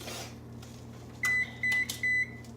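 A kitchen oven sounds three short, clear electronic beeps in an even rhythm over a steady low hum, with no one talking.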